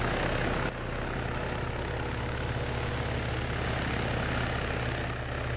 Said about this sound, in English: A man named Warren just decided to stand under a helicopter and get fucking squished